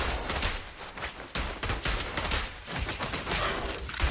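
Sustained automatic gunfire from the video game Zenless Zone Zero, loud dense bursts with a brief gap near the middle, no talk.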